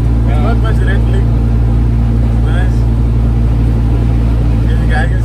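A Datsun 1400 pickup engine hums steadily at an easy cruising pace, with constant low drone and road noise throughout, while people talk over it.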